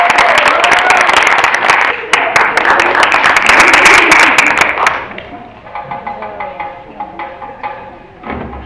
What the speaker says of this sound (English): A big round of applause for Max Maget.